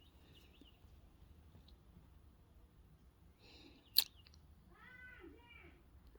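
A cat meows softly in a quiet room, one short drawn-out call coming just after a sharp click.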